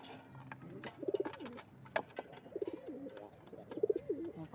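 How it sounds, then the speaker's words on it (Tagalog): Pigeons on a rooftop coo in several soft, rolling phrases, each a low throaty burble with a short pause between bouts, fairly close and moderately loud over a faint background hum. "Ayan, yung dalawa natin kalapate. Ayan yung mga ibon natin."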